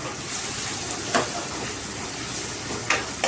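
Onions sauté with turmeric in a pan for lemon rice, making a steady, close sizzle with occasional light scraping and stirring.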